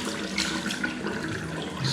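Running water splashes continuously as it rinses gunk out of a Royal Enfield Himalayan motorcycle's air filter, a close, steady hiss of flowing water.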